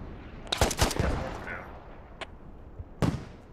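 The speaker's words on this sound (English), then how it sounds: "Getting shot at." Gunfire in the military shooter Squad on the Goose Bay map, a few sharp shots and short bursts at moderate distance, with a spaced single crack later, over low battlefield rumble.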